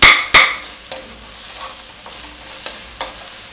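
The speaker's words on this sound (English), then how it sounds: "So now I'm going to add the tomatoes" Tomatoes tipped into a frying pan of cauliflower and peas, two loud clattering hits at the start, then a soft sizzle with occasional spoon scrapes and taps, close by.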